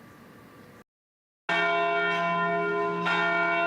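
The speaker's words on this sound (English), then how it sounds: "The bells at St. Mary's Basilica now ringing in celebration." Church bells of St. Mary's Basilica in Phoenix ring out in celebration of a new Pope, with bright sustained harmonic peals that break off briefly for a silent gap and then resume loud and full, swelling again near the end.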